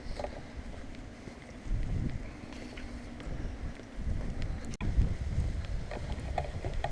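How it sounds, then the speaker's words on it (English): Strong wind gusts buffet the microphone on a breezy, sunny hilltop near Moel Llys y Coed in the Clwydian hills, making a loud low rumble that swells and drops with each gust, with no talking. "Oh, this wind."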